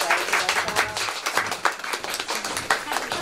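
An audience claps to welcome guests onto the stage at a talk event in Kobe, a steady round of hand claps with distinct individual slaps at moderate loudness.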